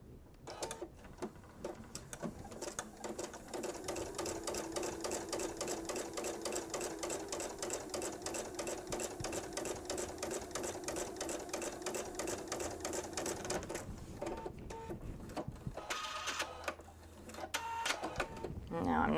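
A sewing machine stitches fabric strips for a kitchen set, running in a steady, fast mechanical rhythm for over ten seconds before stopping, with faint handling noises afterward.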